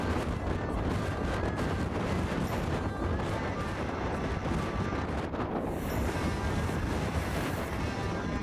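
Strong gusting wind roars across the microphone on the New Course at St Andrews in Scotland, a loud continuous rumble filling the whole stretch.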